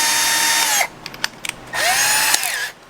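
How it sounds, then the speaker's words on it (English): A power drill with a step-up bit bores a one-inch hole for a kayak motor mount. Two loud, close whining bursts are separated by a pause with light clicks and rattles. "switch over to my step-up drill"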